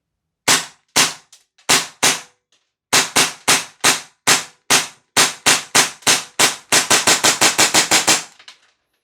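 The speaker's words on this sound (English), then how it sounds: "USP 9 from Marui. We'll show you what it shoots like." Crisp, loud snaps from a Tokyo Marui USP 9 airsoft pistol, first spaced single shots, then quicker strings of about twenty more ending in a rapid run, with no voices.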